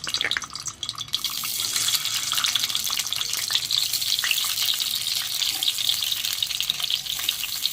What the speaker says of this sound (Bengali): এবার কড়াইতে তেল দিয়ে আমি ডিমগুলোকে এক এক করে ভেজে নিচ্ছি।